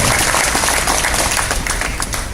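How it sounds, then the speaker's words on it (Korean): Audience applause for the Uijeongbu mayor at the opening ceremony of Uijeongbu Central Culture Park, a loud, dense burst of clapping that carries on steadily throughout and fades only slightly near the end. "안병령 의정부 시장님께 우리들의 마음을 담아서 뜨겁게 박수 한번 쳐드리시기 바랍니다"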